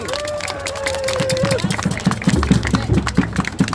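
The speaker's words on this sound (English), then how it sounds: "Big round of applause for Molly." Rally crowd at a Defra picket during The Big One protest applauding a speaker, with clapping, cheers and babble near and loud, and a whistle-like tone early on.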